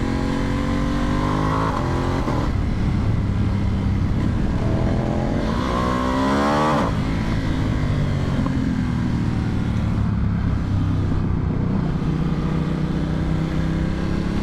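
A Vyrus motorcycle engine roars close and loud while riding, revs rising and falling through gear changes with steady wind rush throughout.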